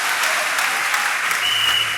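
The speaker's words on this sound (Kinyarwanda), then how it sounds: "Ukomera amashyi umwami wawe." A church congregation applauds together, a steady wash of clapping that holds at an even level for the whole stretch, with no voices rising above it.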